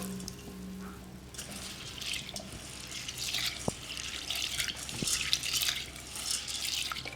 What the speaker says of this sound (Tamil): ஒரு பாத்திரத்தில் உளுத்தம்பருப்பை சேர்த்துட்டு தண்ணி சேர்த்து ஒரு 2 முறை நல்லா கழுவி எடுத்துக்கலாம்